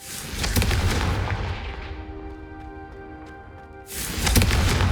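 In the Hogwarts Legacy video game, the Confringo blasting spell is cast, making a loud booming burst that fades into a ringing tail before another heavy blast rumbles in.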